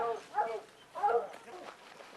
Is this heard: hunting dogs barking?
yes